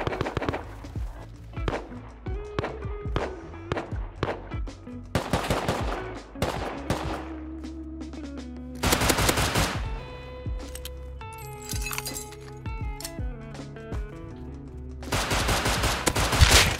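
Enemy gunfire in the survival game Rust, sharp bursts of shots cracking out in rapid clusters between quieter stretches of footsteps and item clatter, fairly close and loud, with a little talk.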